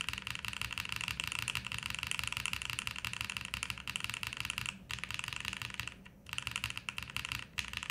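Rapid clacking of a mechanical keyboard with linear switches, a Bauer Lite, typed on continuously up close, with a few short pauses between bursts.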